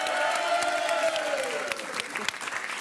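Studio audience applauding Pierre and Alison on a French dating game show, a fairly faint, steady wash of clapping with light cheering, with music running underneath.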